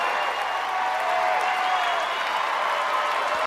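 A large audience applauds, and the dense, even clapping holds steady before cutting off abruptly.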